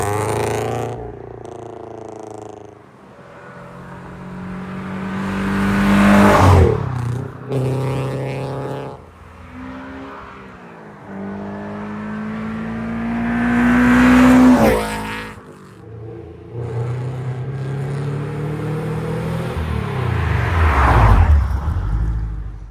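Subaru BRZ with an aftermarket induction kit driven on a track, its engine induction roaring loud and close through repeated rising pulls and gear changes, with no talk over it.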